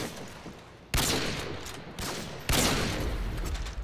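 Sniper rifle gunfire in a video game cracks out in a few loud, sharp shots with echoing tails, separated by short pauses, over a low background hiss.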